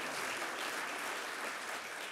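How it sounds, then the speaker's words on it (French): Faint, distant applause from a group rewarding a player's effort during a training drill, a soft continuous patter of clapping with no other sound. "on peut applaudir les efforts fournis par Clémence"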